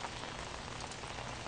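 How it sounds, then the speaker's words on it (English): Steady drizzling rain on a wet December day outdoors in Central Texas, a soft, even patter spread evenly across the whole moment with no voices. "Out on a very drizzly day here in Central Texas."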